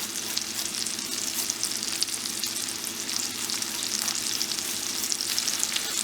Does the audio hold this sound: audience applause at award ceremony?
no